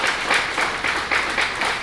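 Church congregation clapping loudly together during a worship service, a dense, sustained burst of applause in steady rhythmic waves.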